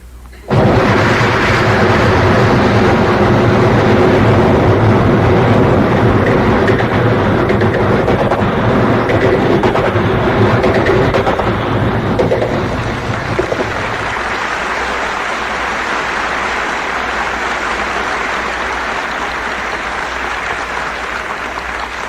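A voice mimics a train zooming right along, a loud sustained roaring rush that fills the first dozen seconds, then thins into a softer, steady hiss and rumble that carries on to the end.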